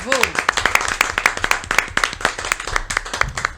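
Studio audience on a French late-night game show claps in a quick, uneven patter of sharp hand claps, with a host's voice speaking over it.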